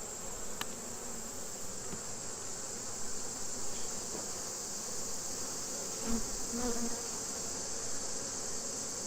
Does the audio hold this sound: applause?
no